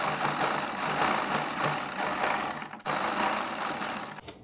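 A sewing machine runs steadily while stitching a seam on a suit, giving a continuous fast mechanical whir and clatter at close range. It pauses briefly near the end, with no talking.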